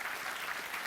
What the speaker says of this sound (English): Quelques applaudissements quand même, chef-d'œuvre.